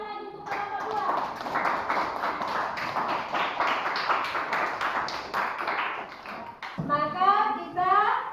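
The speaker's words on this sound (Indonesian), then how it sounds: "Tepuk tangan dulu sekali lagi untuk kelompok 2" A room of people claps together for a student group in a classroom in a dense burst lasting several seconds, then voices speak as the clapping ends.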